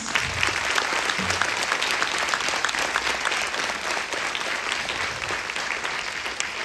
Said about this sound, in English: Shall we have a big round of applause?